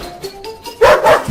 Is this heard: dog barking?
yes